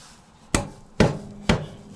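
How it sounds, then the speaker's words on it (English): A rubber mallet taps a motorcycle axle into place during a 520 chain conversion: four sharp, close knocks spaced roughly half a second apart, each with a short ringing decay. "Trusted rubber mallet"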